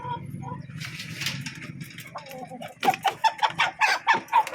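Chickens cluck in a quick run of short rhythmic calls at a village poultry sale, mixed with background voices and rustling nearby.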